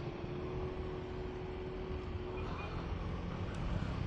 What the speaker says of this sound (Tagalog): Yung tunog ng mga motor sa paligid.